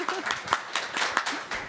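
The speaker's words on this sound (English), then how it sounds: "could we get a round of applause for Danny, please?" A conference audience claps for a speaker at a fireside chat: a short, dense burst of applause that stays fairly close and steady, with a voice talking over it.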